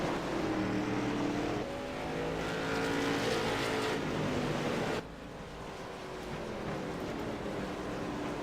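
Race cars roar around an oval racetrack, engines rising and falling as they pass close by, loud and continuous with a brief drop in level partway through.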